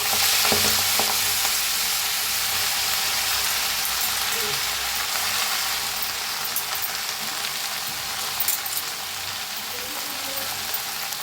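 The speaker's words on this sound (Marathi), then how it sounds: "आता ह्याच्यात टाकूया भाजी ही कापून घेतलेली मेथीची" Chopped fenugreek leaves fry with garlic on an iron pan, giving a continuous close sizzle and crackle along with scraping stirring sounds that stay steady throughout.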